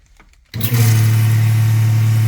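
After a moment of near silence, the motor of a Lechler IDKT120-02 twin-nozzle sprayer starts abruptly and settles into a loud, steady, low humming drone close by.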